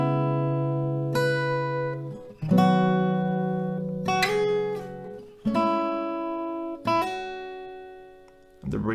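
An acoustic guitar strums a slow chord progression from a song. Each chord rings out clearly and fades before the next is struck, played close and alone with no voices.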